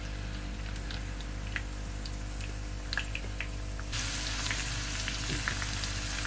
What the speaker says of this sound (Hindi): इसमें हम लहसुन अदरक का पेस्ट जो है वो मिक्स करके इसको फ्राई करेंगे।